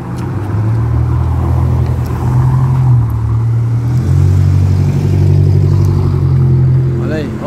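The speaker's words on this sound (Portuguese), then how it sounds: "Olha o tanto de carro que tá passando," Cars pass along a busy road in Minas Gerais, Brazil, one after another with a continuous, fairly close engine drone and tyre rumble that rises and falls, while a person talks over the traffic.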